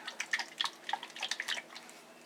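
A glass jar of salad dressing shaken by hand in a kitchen, liquid sloshing and knocking in quick, uneven bursts, fairly close and clear with no talking.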